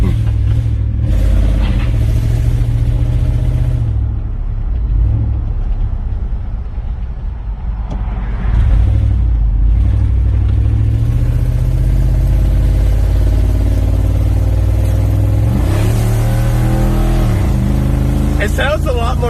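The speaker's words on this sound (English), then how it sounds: "It sounds a lot more pissed off than Bubba's truck" Toyota Sequoia with one muffler removed, its engine droning with a deep, loud, steady rumble that swells into revs. People talk over it throughout.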